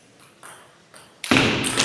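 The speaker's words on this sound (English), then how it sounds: "They are playing table tennis with their phones" A few light taps of a table tennis ball struck with a smartphone used as a paddle, quick and close, followed by a louder burst of noise at the end.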